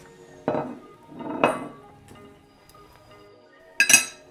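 Metal cookie cutters clink and clatter as they are picked up and handled in a home kitchen while preparing a speculoos cheesecake, a few separate bright clinks close by with quiet pauses between.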